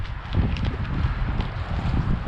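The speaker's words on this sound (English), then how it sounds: "crazy windy day today" Steady, low buffeting rumble of strong wind hitting the microphone, continuous throughout.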